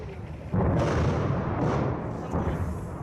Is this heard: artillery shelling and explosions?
yes